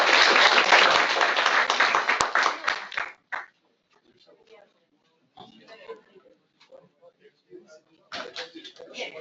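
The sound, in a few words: applause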